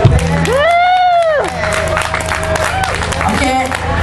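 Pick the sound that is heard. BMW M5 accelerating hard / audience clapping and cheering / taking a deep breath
audience clapping and cheering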